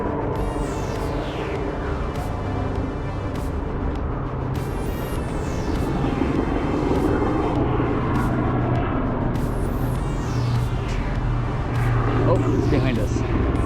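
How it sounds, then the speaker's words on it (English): Helicopter flying overhead on a city street in Akron, Ohio, a continuous rotor and engine drone rising and falling over traffic noise, with people talking nearby. "Where's this helicopter coming from?"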